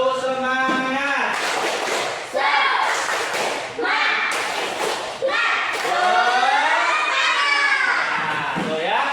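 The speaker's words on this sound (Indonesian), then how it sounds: "Ya, tepuk semangat dulu." A school class in Indonesia does a rhythmic spirit clap, a tepuk semangat, with children's voices chanting and shouting loudly over sharp group claps and thumps in a patterned beat.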